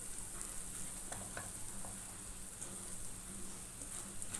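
Mashed potato masala for a bread sandwich being sautéed in a pan, with a steady close sizzle and frying hiss throughout and a few soft stirring scrapes, no talking.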